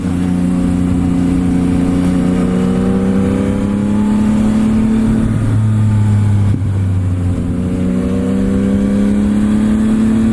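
A 2021 Yamaha MT-09 SP motorcycle engine under way, a loud, continuous close-up drone with rising and falling pitch as it revs and shifts through the gears, with steady wind noise throughout.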